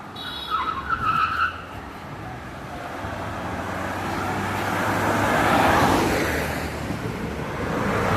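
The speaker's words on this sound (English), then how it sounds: "Can't overcross the road with people because of the traffic. A lot of vehicles passing by." Road traffic moves through Ocho Rios, Jamaica, a steady roadside rush of engines and tyres with a vehicle swelling loudly as it passes by close, then easing off.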